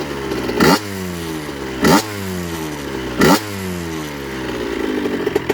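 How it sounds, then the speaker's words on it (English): A running 1998 KTM 65 dirt bike engine idles with a loose kickstarter rattling and clattering, broken by three short, loud revs spaced about a second apart. "That rattling's the Kickstarter."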